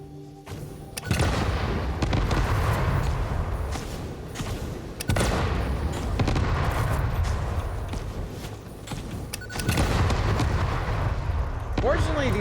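Explosive charges bombing creatures in the factory-building game Satisfactory, with three heavy booming blasts spaced several seconds apart, each followed by a long rumbling roar that fills the space between them.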